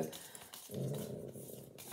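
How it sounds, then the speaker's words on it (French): A dog growls low and rumbling, a steady throaty snarl close by, with a brief pause before it continues. "Il y a un chien."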